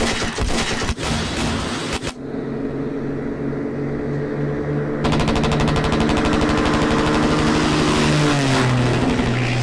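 Vietnam war strategy game effects: dense rapid cracking bursts like an aircraft strafing run, a short lull with rumbling, then continuous loud rattling barrage from 105mm artillery, sustained and close with no talking.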